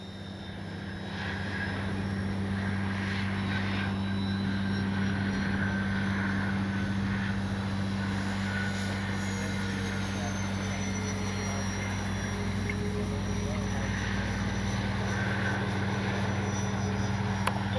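An FGFRC Bronco RC plane with AS3X+ stabilization flies with a steady droning engine hum, constant and moderately distant, no voices over it.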